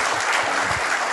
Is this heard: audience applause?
yes